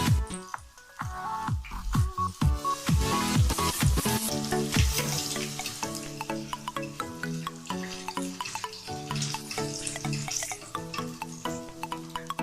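Okoy, seaweed fritters, fry in hot oil with a steady dense sizzle and crackle, punctuated by scattered pops and bubbling, close and continuous with no talking.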